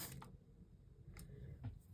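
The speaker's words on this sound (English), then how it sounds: "Now I'm going to spray some water" A spray bottle mists water onto an art journal page in three short, faint spritzes spaced across a quiet room.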